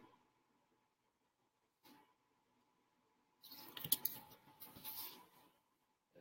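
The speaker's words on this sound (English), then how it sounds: "I think I'm typing that right." Keys clatter on a computer keyboard in a quiet room, a brief tap early on, then a denser burst of close, light clicking lasting a couple of seconds.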